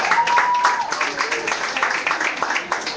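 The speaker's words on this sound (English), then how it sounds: "Give him a huge hand, please." A comedy club crowd applauds and cheers a comedian taking the stage in a dense, loud wave of clapping with whoops and shouted voices mixed in, holding steady throughout.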